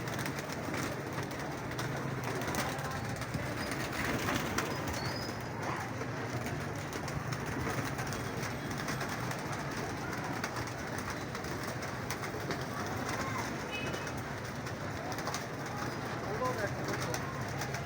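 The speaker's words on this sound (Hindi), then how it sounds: "चलो जी 2 कबूतर बैठे हुए हैं" Pigeons coo faintly amid a busy outdoor background, with someone talking nearby and a low rumble underneath.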